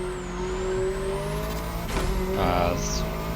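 A Bugatti Veyron Super Sport in The Crew Motorfest racing game drones with a steady engine note that shifts through gears as it revs, with a brief tire squeal and someone talking over it.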